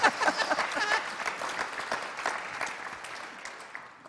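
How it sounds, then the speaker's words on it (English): An audience at a panel event on the economy of Western Australia claps, a dense burst of applause that is loudest at the start and gradually thins and fades over a few seconds. "Can I thank my family for that applause, by the way?"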